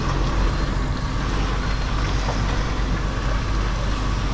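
A Mercedes Actros truck driving over a muddy site in Germany, a steady rumbling engine and rolling noise with wind buffeting, continuous and close.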